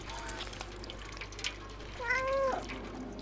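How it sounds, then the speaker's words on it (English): A cat meows once in the video game Stray, a short rising and falling call standing out clearly over a steady low background hum. "And a good meow."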